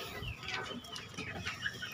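Free-range village chickens cluck and chirp close by at feeding time, given mash mixed with EM4, leftover rice and cassava leaves; several overlapping short calls over light background noise, no talk.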